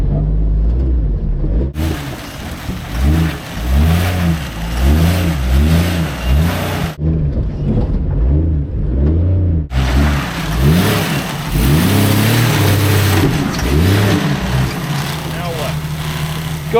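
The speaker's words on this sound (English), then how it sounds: "Just crawl and keep your driver tire right up on top of those." An off-road vehicle's engine crawls over obstacles during off-road practice, a loud steady mid-pitched drone with rising and falling revs and two brief cutouts, close and continuous.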